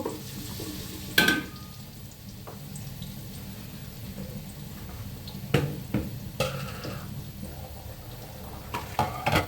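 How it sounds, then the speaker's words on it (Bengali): Chopped onion hisses and sizzles in hot oil for chicken biryani, a steady close frying crackle with a few sharp pops and utensil clinks, no voices. "গরম হয়ে গেছে পেঁয়াজ দিয়ে দিচ্ছি এখানে আমি কুচানো পেঁয়াজ দিলাম"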